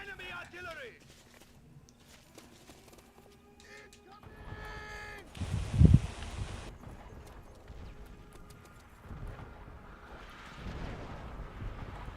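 Call of Duty artillery shells burst in a loud, rumbling blast with a sharp peak mid-way, amid scattered game effects and someone talking over the gameplay.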